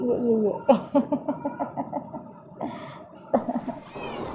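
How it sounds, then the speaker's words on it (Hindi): A house cat meows repeatedly in a rapid series of short calls near a milk bucket, then pauses and resumes with a few more meows. "बिल्ली फ़ौरन आ जाती म्याऊं म्याऊं करके"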